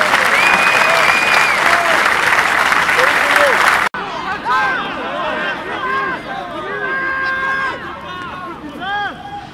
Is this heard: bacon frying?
no